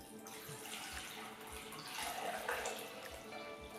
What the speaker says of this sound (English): So I'm going to pour some water in here.